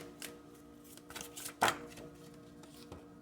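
Oracle cards being shuffled by hand, soft papery riffles and taps in scattered bursts with one sharper flurry, quiet and close with no voices.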